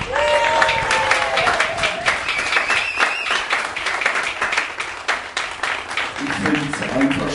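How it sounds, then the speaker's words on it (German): A crowd at an outdoor vigil claps in a sustained round of applause, dense and close throughout, with a voice briefly audible near the end. "sie hat jetzt auch einen richtigen Applaus verdient."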